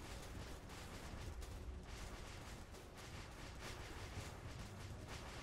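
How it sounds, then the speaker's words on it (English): A continuous barrage of gunfire and missile blasts in the video game Stardrive, dense rapid bursts and booming impacts layered together without pause. "Just a barrage of missiles here and gunfire."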